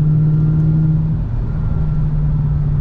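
Supercharged Toyota/Lexus engine held at full throttle, a loud, close, sustained drone with a strong steady tone and no talk.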